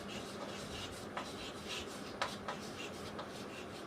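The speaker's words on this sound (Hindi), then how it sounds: "तो गिवन डेटा क्या है वो लिख लेते हैं" Pen writing on paper during a physics lesson, a steady faint scratching with a few small taps, close and quiet with no talk over it.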